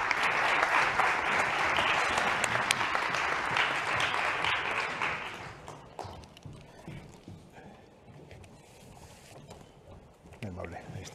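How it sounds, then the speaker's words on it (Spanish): Audience applause greets a speaker arriving on stage at a talk, a dense, loud burst of clapping lasting about five seconds before fading into quieter room noise with scattered claps and faint murmuring. "Un aplauso para él."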